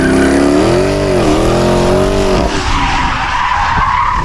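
A 2013 Dodge Charger R/T AWD slides and skids, its engine note wavering loudly against tire screech before breaking into a rough scrubbing roar, close and continuous throughout.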